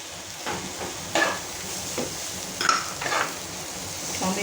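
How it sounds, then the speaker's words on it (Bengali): Spices and tomato stirred in a hot pan for green jackfruit curry: a constant sizzle broken by several louder scraping strokes of the spoon against the pan, and no voices. "দেখুন বন্ধুরা, এবার আমি এটার সঙ্গে একটু টমেটো মিশিয়ে দিচ্ছি।"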